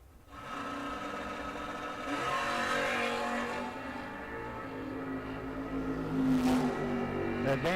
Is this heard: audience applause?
no